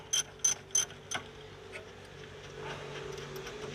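A ratchet clicks in four quick bursts while loosening the rear brake caliper bracket bolts on a BMW 525i E60, followed by quieter mechanical rattles and low background hum.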